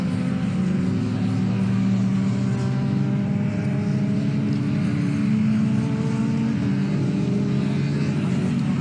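Race cars, among them a Caterham 7 and a Renault 5 Turbo, compete in a CNC Heads Championship race at Donington Park, with engines droning and revving steadily and loudly throughout, layered and continuous with no speech.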